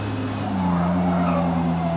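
A race car in the Forza Motorsport game brakes hard, its tires squealing over a steady, droning engine note that holds loud and close for the whole two seconds.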